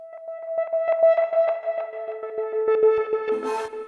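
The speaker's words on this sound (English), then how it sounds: "the reversed synth sound. That sounds like this." A reversed synth sound from a track built from scratch: a sustained, swelling electronic tone with echoing, stuttering pulses that brightens and thickens toward the end, heard up close with no talking.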